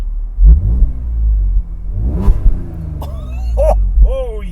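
A 2015 Audi S4 engine cranks over and catches, settling into a loud, close idle rumble, then revs up in a couple of sharp bursts, with excited voices talking over it.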